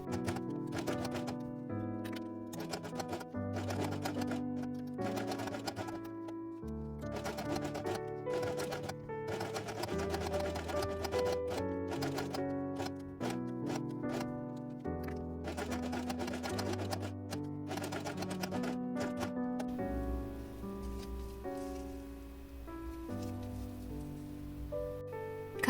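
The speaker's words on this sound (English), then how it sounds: "Sew the inner edge using dark pink thread." A sewing machine stitches the inner edge of a felt bee wing with dark pink thread, a quiet, close run of rapid clicking bursts with short pauses between stretches of sewing.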